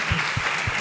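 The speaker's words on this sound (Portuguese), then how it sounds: "Aplausos, Valdemir." Studio audience applause on a Brazilian comedy show, a short steady burst of clapping from a crowd with a few heavier thumps, heard alone.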